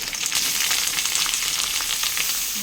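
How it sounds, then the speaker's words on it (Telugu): Curry leaves fry in a few spoons of hot oil in a pan while a beetroot chutney is made. Steady crackling sizzle with busy spitting pops, close and alone. "ఇప్పుడు అదే బండిలో నాలుగు స్పూన్లు ఆయిల్ పోసుకుని కరివేపాకు వేసుకుని"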